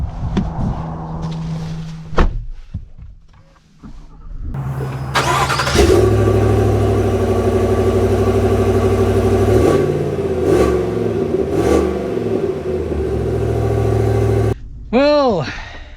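A 2025 Chevy Tahoe Premier SUV starts up and drives, its engine a steady loud rumble that rises and settles for several seconds, with voices talking over it near the start and a brief squeak near the end.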